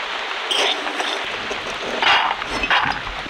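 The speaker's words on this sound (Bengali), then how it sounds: "একটা একটা বাদাম ভাজা হয়ে যাচ্ছে আর সঙ্গে সঙ্গে কিন্তু এই যে ফাটার আওয়াজও হচ্ছে" Peanuts roast in hot salt in a pan, giving a steady gritty rustle with several sharp cracking clicks scattered through it, near and fairly loud.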